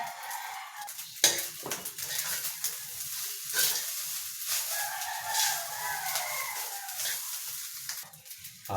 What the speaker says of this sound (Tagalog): Tuloy na natin ang pagsasangag ko na nakasalang pag ng sinangag.